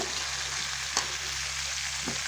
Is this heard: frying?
yes